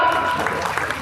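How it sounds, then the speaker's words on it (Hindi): Applause from an audience honouring an intermediate-exam topper at a birth-anniversary commemoration for a former governor and chief minister, a brief steady wash of clapping with faint crowd murmur. "तालियां बजाइए जोरदार"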